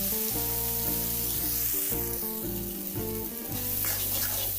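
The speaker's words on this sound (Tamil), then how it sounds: "வெங்காயம் தக்காளி நல்லா ஸ்மாஷ் ஆகணுங்க. அந்த அளவுக்கு நல்லா வதக்கிக்கோங்க." Onions and tomatoes sauté in a pan for a mutton gravy, giving a steady, close sizzle and hiss throughout, with melodic background music playing underneath.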